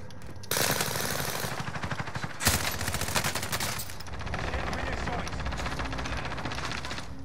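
Gunfire in Call of Duty: Modern Warfare, with loud, rapid automatic bursts that rattle almost continuously, a sharp heavy shot standing out partway through.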